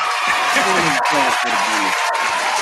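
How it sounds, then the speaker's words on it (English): Crowd applause at a DJ mixshow event, a steady wash of clapping and cheering throughout with a voice talking over it close to the mic. "Round of applause."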